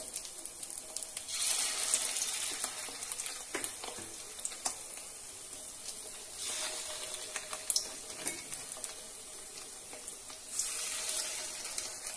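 Fish roe fritters sizzle in hot oil, a quiet crackling hiss that swells and eases in waves with occasional sharper pops, and no one speaking.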